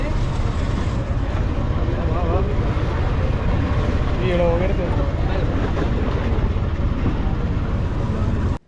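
A large passenger ship's engine rumbles steadily and loudly up close as it docks at a jetty in Lakshadweep, with wind and water noise throughout and voices faintly mixed in.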